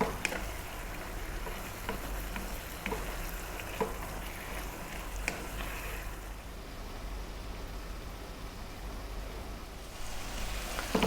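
Beef and mushrooms sizzle steadily in a pan over medium heat for a beef mushroom masala curry, a continuous close crackling hiss with occasional sharper pops, no voices over it.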